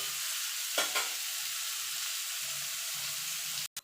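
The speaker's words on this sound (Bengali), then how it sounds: "এই তেলে ইঁচড়গুলো ভেজে নেব" Pieces of young jackfruit, already boiled with salt and turmeric, fry in hot oil with a steady close hiss, a few scraping stirs early on, and the sound cuts off abruptly at the end.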